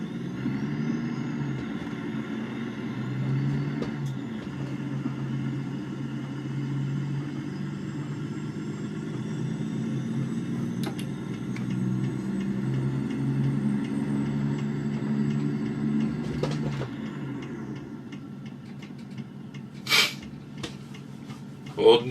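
Steady low engine rumble of a manual-transmission truck creeping through traffic with clutch and brake held, a continuous drone with a few brief knocks near the end; a voice talks over it.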